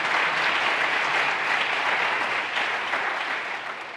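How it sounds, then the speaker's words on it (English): A conference audience applauds its closing plenary panel with sustained, dense clapping that holds steady and only begins to thin toward the end. "Big round of applause for them."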